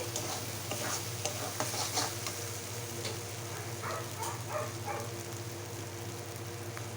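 Spice paste frying in oil with steady, close sizzling and faint crackles, scraped and stirred at intervals, a continuous low hum underneath throughout.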